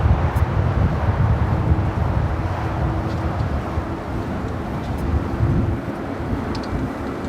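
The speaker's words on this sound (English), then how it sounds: "the wind's picking up again" Wind rising at Los Angeles LAX airport, a steady broadband rushing roar with a faint low engine drone underneath, slightly stronger at the start.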